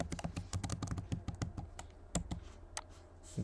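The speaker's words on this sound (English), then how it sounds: "let's type one name" Someone types a name on a computer keyboard, rapid clustered keystrokes at first, then sparser, separated taps, close and crisp with no talking.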